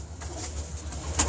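Prize-breed racing pigeons in a loft give soft, low throaty coos, a few rolling calls close by against a quiet background, with a faint flutter of wings.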